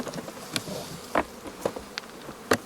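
Honey bees at a Lemko apiary in Zdynia pass close by, with short buzzing sweeps and a few sharp bursts over a quiet outdoor background, no voices.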